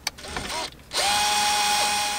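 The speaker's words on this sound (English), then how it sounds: "Make sure you don't overpower the drill because you don't want it to strip anything." A cordless power drill fitted with a 9/32 inch socket backs out screws holding a Chevy Silverado or GMC Sierra truck radio. There is a short ratcheting whir, a brief pause, and then a steady, loud, close-up motor whine that holds to the end.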